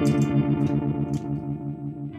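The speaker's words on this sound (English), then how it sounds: "I've added also a vibe, a univibe." A sustained electric guitar chord pulses and swirls through a univibe effect on an HX Stomp, giving throbbing, Leslie-style rotating modulation, warm and slightly distorted, with a few picked notes ringing over it.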